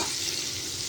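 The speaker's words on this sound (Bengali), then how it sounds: "ওই তেলের মধ্যে আমি কুমড়োগুলো দিয়ে দিলাম, কুমড়োগুলো ভেজে তুলে দেবো।" Pumpkin pieces fry in hot oil with a dense, even sizzle that stays close and steady throughout the short moment. No one speaks.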